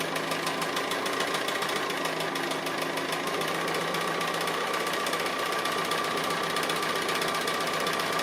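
A sewing machine stitching appliqué runs in a steady, unbroken whir with a fine rapid needle patter, close and continuous throughout with no talking.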